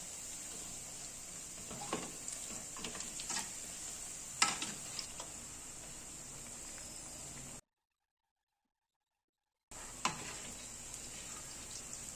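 Dill leaf bonda fry slowly in hot oil with a steady fine sizzle and occasional crackles and stirring clicks; the hiss drops out briefly partway through before resuming.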